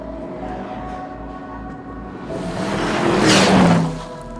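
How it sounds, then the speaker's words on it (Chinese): An Aston Martin DBX driving on an unpaved gravel road, with a steady interior engine and road drone that swells into a louder rush of tyres and engine before easing again. "像我现在开着的一个完全没有铺装的一个砂石路面"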